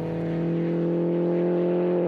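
A tuned retro Mini race car engine revs hard near its limiter, a loud, sustained, buzzing high-rpm drone held steadily close by throughout.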